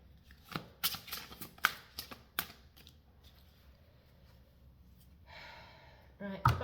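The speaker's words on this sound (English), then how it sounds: "Do 3 shuffles." A deck of cards is shuffled three times during a solstice reading, with sharp riffling bursts and taps separated by pauses, followed by rustling at the end, under quiet breaths.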